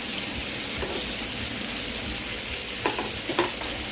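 Surmai fish fillets sizzle steadily in hot oil in a pan, with a couple of soft scraping knocks near the end as pieces are flipped; no talking.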